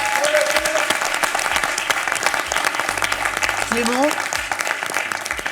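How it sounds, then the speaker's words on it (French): A studio audience at a French quiz show applauds a student finalist, steady loud clapping throughout while a host speaks over it and a short electronic musical tone rises in the background. "ça s'applaudit."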